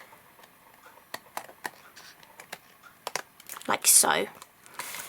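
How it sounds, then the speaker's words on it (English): Scissors snip along the edge of a white card panel, trimming away overhanging edges for a handmade greeting card, with a run of short crisp cuts and a louder rustle near the end, under a voice speaking. "we're just lining up the blade of our scissors against this white panel as we're cutting"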